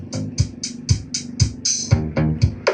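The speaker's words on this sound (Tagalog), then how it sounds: "So mag-play tayo ng music." Upbeat electronic dance music with a steady punchy kick and bright hi-hats plays through a small Bluetooth speaker with a 502 MT mini amplifier, fairly loud and a little boxy.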